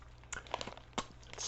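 Herr's Philly-flavored potato chips crunched close to the mouth, a few quiet crisp bites and chewing crackles over a low steady hum, with no talking.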